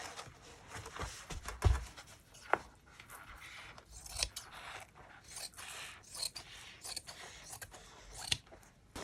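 Scissors snip through material for a soft junk journal cover, faint, close, irregular cuts and rustles with a few sharper clicks scattered over several seconds.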